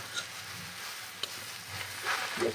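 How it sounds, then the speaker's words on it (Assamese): Salted food is stirred in a frying pan, producing a soft, low-level sizzle with a few light scrapes and taps. "একেবাৰে নিমখটো দি দিবি। একেবাৰে একবাৰ লৰাই দিম এতিয়া।"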